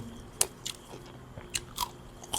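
Close, quiet bites and crunchy chews on a steamed meatball, several sharp crisp bursts spaced irregularly over a soft background with no talking.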